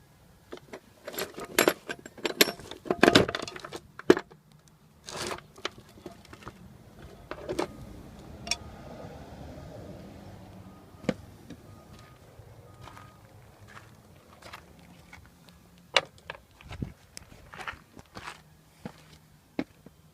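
Bolts are tightened down on a Mercury outboard motor during timing belt and flywheel work, with sharp metallic clinks, tool ratchets and scrapes in irregular bursts close by over quiet background.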